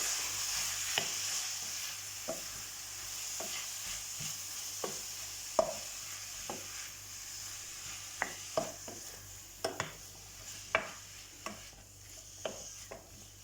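White cabbage pickle frying in oil with onion over a lowered flame: a soft, quiet sizzle with irregular utensil clicks and scrapes from stirring, spaced about a second apart.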